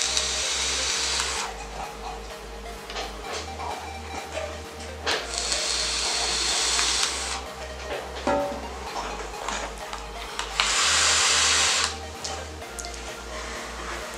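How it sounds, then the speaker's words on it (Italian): Vaping on a Wotofo Profile mesh atomizer set to 55 watts: three long hissing, sizzling draws with quieter gaps between them and no talking. "Eccoci arrivati alla prova di svapo e le conclusioni finali di questo atomizzatore."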